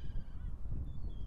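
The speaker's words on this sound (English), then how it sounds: "The seagulls are out." Gulls call at Cardiff Bay at sunset, a few honking, squawking cries over a low rumble of wind and ambient noise, moderately close and fairly faint.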